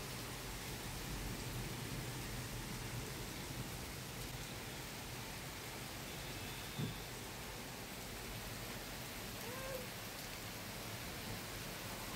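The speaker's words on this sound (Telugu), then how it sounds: "ఇలా వర్షం పడిపోయిందనమాట ఈరోజు" Steady rain falls after a sudden storm of strong thunder and wind, a dense continuous hiss with no voices, and a brief faint knock partway through.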